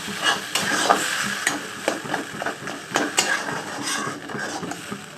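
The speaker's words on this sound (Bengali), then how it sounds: "এবার গ্যাসের ফ্লেম একটু লো করে দিতে হবে আর খুব ঘন ঘন নাড়াচাড়া করতে হবে" Roasted eggplant mash mixed with tomato, onion and chilli is stirred in a pan over a low gas flame, producing soft sizzling with repeated scraping and tapping of a spatula, near and steady, with no voices.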